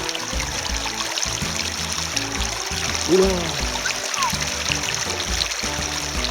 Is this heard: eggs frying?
no